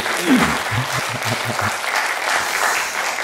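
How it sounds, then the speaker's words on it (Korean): A church congregation applauds the choir during a Sunday service, a full, steady wash of clapping from many hands that fills the room for a few seconds. "우리 성가대한테 박수 한 번만 더 치고"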